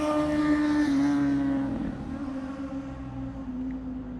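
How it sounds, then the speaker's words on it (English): A loud motorcycle goes by on a Vancouver street, its engine droning strongly at first, then fading as it moves away. "There's a crazy motorcycle going by."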